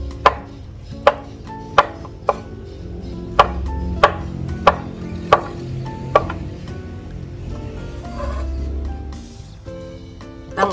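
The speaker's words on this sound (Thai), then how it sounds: "เดี๋ยวเรามาเตรียมหั่นในส่วนของผักของเรากันนะคะ" A knife chops straw mushrooms and other vegetables on a cutting board for a Thai steamed sea bass dish, with about a dozen sharp, evenly spaced strikes ringing out close and clear over a quiet kitchen.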